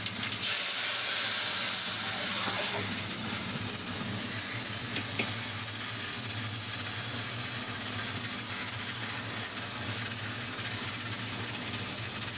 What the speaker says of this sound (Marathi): फोडणी टाकते.